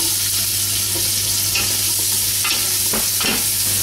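Onion and garlic sautéing in hot oil in a cooking pan for kare-kare, a steady close sizzle with occasional stirring scrapes and crackles, no talking.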